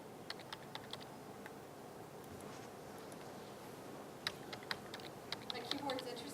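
Quiet clicking of typing on a computer keyboard, scattered keystrokes tapping irregularly over a steady background hum, with faint voices in the room.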